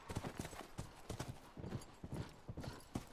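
Horse hooves clip-clop in The Last of Us video game, a quick, rhythmic series of close hoofbeats in steady trotting cadence, clear and distinct throughout.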